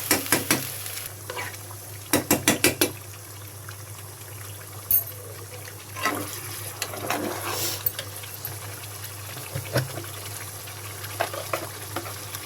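Beef with spices cooks in a pan, a soft continuous sizzle broken by bursts of stirring and scraping clatter, fairly quiet and close, with no talking.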